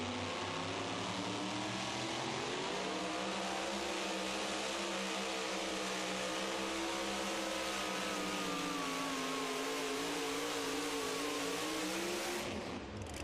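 Truck-pulling vehicle named Addiction, driven by Michael White at a Pro Pulling League truck pull, roars at full power through a long continuous run, its loud engine note rising and sweeping in pitch before cutting off near the end.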